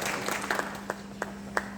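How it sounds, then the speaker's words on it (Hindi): Scattered claps at a JP cement sheet meeting in Gaya, Bihar: a few sharp hand strikes stand out at uneven intervals over a steady low electrical hum and a soft room murmur. "इनके लिए एक बार फिर से जोरदार तालियां"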